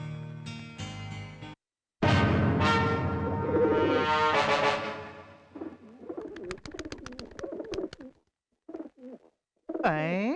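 Soft pigeon coos break in between louder voices talking nearby; the cooing is brief and partly covered by the speech.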